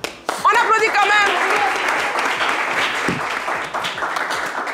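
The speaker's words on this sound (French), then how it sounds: "On applaudit quand même." An audience applauds during a Christmas special TV game show, a dense spread of many hands clapping right after a voice speaks, continuing steadily and loudly to the end.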